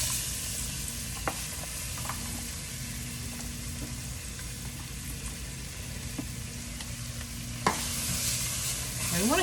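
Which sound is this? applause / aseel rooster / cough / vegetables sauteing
vegetables sauteing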